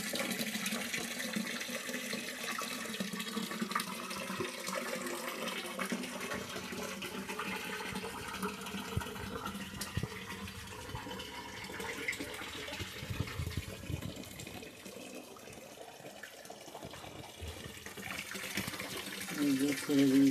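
Water rushes and gurgles steadily in a fish tank as young local magur catfish fry are released into the current from a hatching tank, a faint continuous wash throughout.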